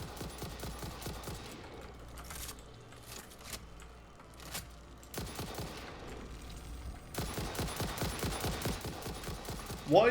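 Rapid gunfire in the factory-building game Satisfactory, aimed at small flying creatures, comes in short bursts early on and then a denser, steady stretch of shots near the end, with no talk.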